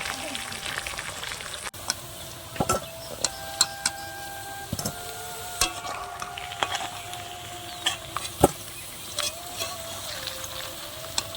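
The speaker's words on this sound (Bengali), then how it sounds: "আর একটু ভালো করে ভেজে নিই যাতে ভাজার সময়ই সেদ্ধটা হয়ে যায়" Chicken for biryani fries in a pan, a continuous close sizzle broken by frequent clinks and scrapes of a stirring spoon, with a few faint tonal whines in the background.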